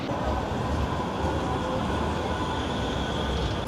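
Tram or train rumble rolling past on a Manchester city street, a steady broadband roar that stays loud and continuous throughout with no talking.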